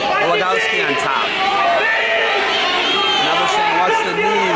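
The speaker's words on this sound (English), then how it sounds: "They're getting fired up in the crowd here" A wrestling crowd roars and cheers during a 133 lb collegiate bout, loud and steady throughout, with a commentator talking over the noise.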